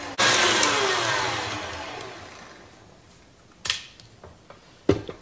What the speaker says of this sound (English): I'm gonna mix this in medium speed for a few minutes.